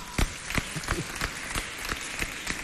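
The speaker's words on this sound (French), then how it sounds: "Applaudissez très fort pour Madame Nenalbaye, s'il vous plaît" At a live television show, an audience gives a sparse, rhythmic clap, with distinct individual claps landing at a regular beat over a low crowd murmur.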